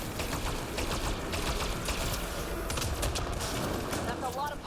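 Dense automatic gunfire rattles continuously through a firefight in the video game Mass Effect Andromeda, loud and sustained with a voice speaking over it.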